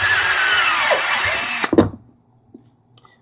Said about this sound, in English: These step drills sure make a nice hole in this plastic,